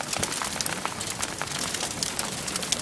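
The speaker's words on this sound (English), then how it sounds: "Now it's finally changed to rain." Steady rain falling just after a hailstorm in Tosa, pattering densely on the ground and surfaces nearby, a continuous close hiss with scattered brighter drop impacts and no voices.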